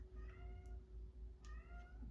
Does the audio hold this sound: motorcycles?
no